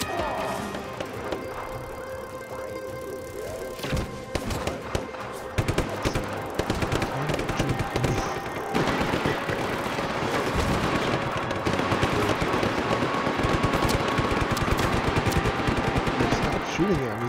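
Automatic gunfire in the open-world action game Just Cause 3, dense rapid bursts of shots over loud game music and effects, growing busier and louder after the first few seconds, with someone talking throughout.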